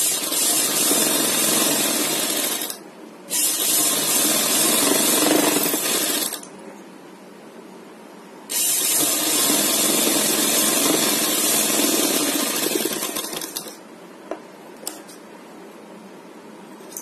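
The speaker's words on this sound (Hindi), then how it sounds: "और एक सिलाई लगाएंगे" A sewing machine stitches a buckram strip in two long loud runs of dense whirring rattle, with short quiet pauses between them and a few light clicks near the end.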